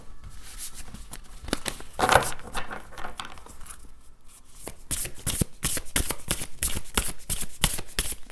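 A deck of tarot cards being shuffled by hand, repeated riffling bursts close up, with a quieter stretch in the middle before rapid, rhythmic shuffles resume.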